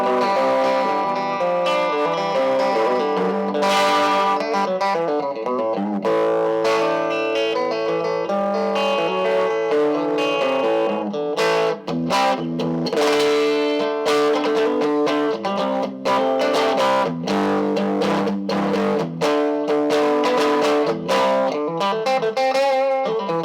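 A 1966/1967 Vox Berkeley II transistor amp plays an electric guitar on its single-coil sound: a run of clean, bright chords and single notes with a slight chorus shimmer, steady and fairly loud throughout.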